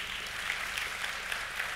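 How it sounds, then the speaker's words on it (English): An audience applauding at a tech conference session, a steady, moderately distant patter of clapping hands that stays even from start to finish. "can you applaud a little bit to cheer you?"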